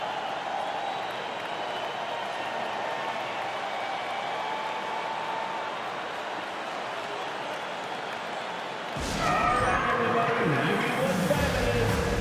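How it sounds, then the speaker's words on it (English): Steady crowd applause and cheering fills an arena in NBA 2K24, Washington Wizards versus Utah Jazz, rising louder near the end with a burst of broadband noise. "A big round of applause for your Wizards"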